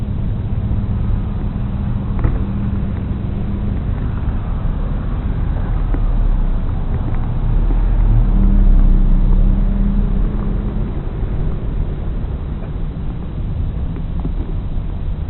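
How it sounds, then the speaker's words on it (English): Outdoor car park ambience outside a shopping strip with a steady low wind-buffeted rumble and a car passing by, swelling around the middle, with no talking. "I'm just going to wander around the car park a bit and just film around the place"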